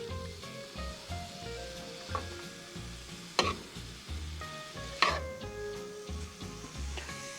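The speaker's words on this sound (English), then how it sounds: "Nothing yells out happiness than the sizzle from a bacon." Bacon sizzles steadily in a frying pan for cowboy beans, a continuous crackling hiss broken by a few sharper pops and stirring scrapes, close and alone with no talk.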